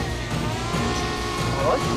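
A steady, droning motor whine from a camera drone flying overhead holds on throughout, fairly loud and close, over a faint rumbling background.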